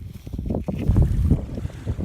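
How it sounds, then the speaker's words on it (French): Strong gusts of wind buffet the camera microphone outdoors while hiking in the Scottish hills, a loud, continuous low rumble that surges and swells throughout. "le putain de vent qui est en train de me souffler dessus"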